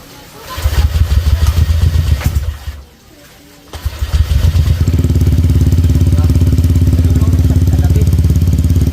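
A cold motorcycle engine cranks and catches, sputters briefly, then settles into a steady, loud, close idle that runs continuously.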